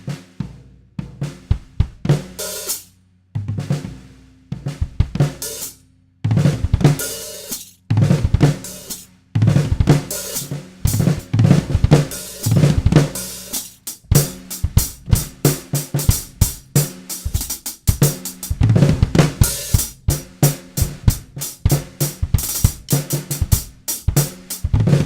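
Drum kit playing two combined licks, fast bursts of ghost notes with accented hits, sharp cymbal and snare strikes in dense, busy patterns with short pauses, loud and close.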